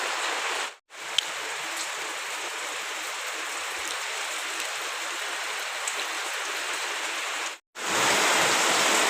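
Heavy rain pours down in a dense, continuous hiss, loud and close, briefly cutting out twice before resuming at full intensity.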